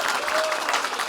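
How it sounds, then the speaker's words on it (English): A brief burst of audience applause for actor Cheech Marin at a talk on Chicano art, a dense, even patter of clapping from a crowd. "let's give a round of applause for Cheech"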